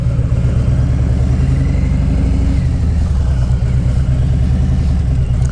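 A 2017 motorcycle rides around the block, its engine a steady, loud mid-range drone that shifts pitch slightly as it moves, with no speech over it.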